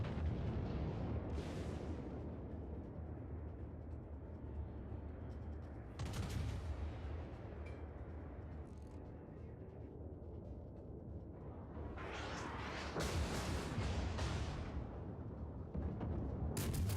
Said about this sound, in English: start popping off a few rounds